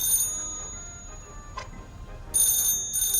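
A telephone rings in short bursts of a bright electronic tone, with a brief chime between and two clear rings near the end, loud against a quiet room.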